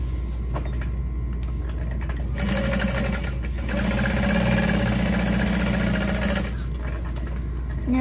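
A sewing machine top stitches an eighth of an inch from the edge of a fabric backpack, giving a loud, steady mechanical whir with a faster, busier burst in the middle.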